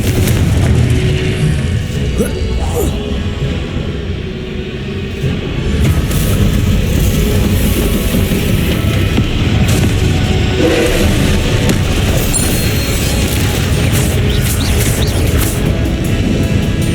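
Repeated Confringo fire spell blasts in the Hogwarts Legacy video game, a dense, loud run of booming explosions and rumbling impacts layered over continuous battle noise with no pauses.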